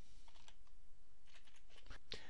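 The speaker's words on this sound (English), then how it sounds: "typing in the query that you are after" Sparse keystrokes on a computer keyboard, a few soft scattered clicks close by and fairly quiet, with no talk over them.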